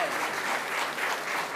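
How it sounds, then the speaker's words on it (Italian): An audience applauds at a Latin language competition award ceremony, steady dense clapping from a crowd held at a constant level throughout. "Applaudiamo"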